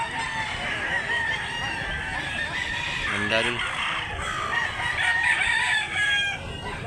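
A 13-month-old rooster with yellow feet, at a poultry seller's in Mantalungon, Cebu, gives a single loud crow midway through, surrounded by clucking and a voice talking nearby.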